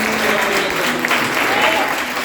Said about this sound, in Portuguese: E você pode aplaudir o Senhor com alegria.